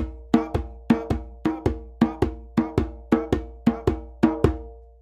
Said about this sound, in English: And now we can try playing on our djembe